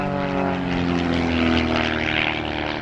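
A Giles G-202 aerobatic propeller plane flies a display at an airshow in Roskilde. Its engine drones steadily and loudly with a rich buzzing tone for the whole stretch, and nobody speaks over it.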